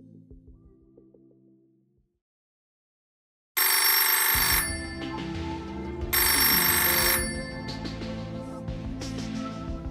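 A telephone on a library quiz line rings in two loud, bright electronic bursts separated by a short gap, after a faint tone that fades into silence.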